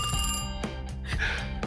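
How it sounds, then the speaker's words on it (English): A telephone bell rings in a loud, bright trill, one burst followed by another as a tabletop roleplaying session plays out around it. "as this phone rings, who is standing in front of the camera?"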